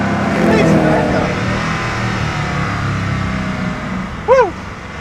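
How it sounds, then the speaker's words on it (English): A Koenigsegg Agera R sports car drives on a track, its engine a loud, steady roar that fades slightly as it passes, with a short whooping cry near the end. "So that's the Agera R on a track."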